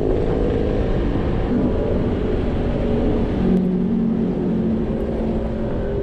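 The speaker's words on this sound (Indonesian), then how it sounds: "Begitu di depan, wow, suara knalpotnya sangar." Motorcycle exhaust roaring under a rider on a road outing, a loud, rough, continuous drone with wind rumble from close by, its pitch shifting slightly as the bike moves along.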